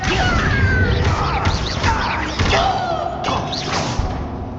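Spell effects cast in Hogwarts Legacy, a loud dense clash of whooshing magic, thuds and crashing impacts layered over constant game music and ambience, with several swelling bursts throughout.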